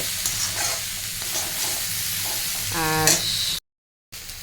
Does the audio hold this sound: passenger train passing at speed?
no